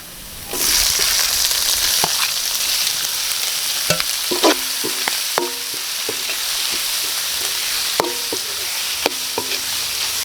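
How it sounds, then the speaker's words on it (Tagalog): Beef innards sautéing in a pan for a spicy dinuguan in coconut milk, a loud continuous hiss of frying with intermittent scrapes and taps of a stirring utensil against the pan. "Gisa na rin po natin to."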